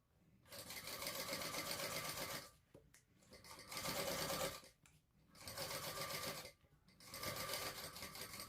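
A sewing machine stitches a bag seam in four steady bursts of rapid whirring, each lasting about two seconds, separated by brief pauses, close and clear.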